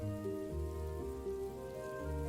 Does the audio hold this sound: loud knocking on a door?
no